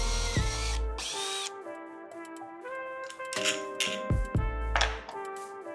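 A power drill bores a hole in a wooden strip for a homemade har gow wrapper press, sounding in several close, loud whining bursts with short pauses and starts between them.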